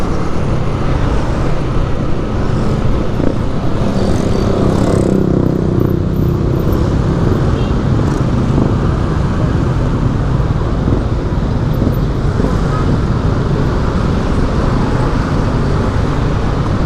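Dense roadway noise from a traffic jam, heard from a motorcycle among cars and motorbikes, a loud continuous rumble of idling and creeping engines with steady wind buffeting and no voices.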